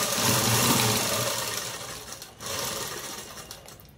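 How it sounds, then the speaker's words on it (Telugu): Sewing machine running a topstitch along a garment seam, a steady, fairly loud close-up whir for about two seconds, then a brief pause and the stitching resumes with no talk over it. "అటువైపు తిప్పేసి పైకుట్టు అనేది వేసేసుకోవాలి"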